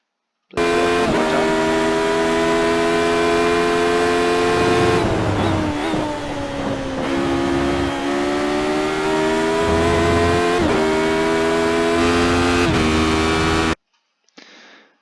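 A Radical race car in a sim racing game at Laguna Seca, engine held at full throttle: a loud, steady, buzzing high-revving drone with rising pitch through the gears, brief shifts and dips, cutting off near the end.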